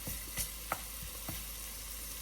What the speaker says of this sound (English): Now you can hear that sizzle.